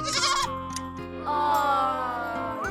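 A young goat kid bleats in a thin, wavering cry, close and fairly loud, with a short bleat followed by a longer drawn-out one over soft background tones, no talk.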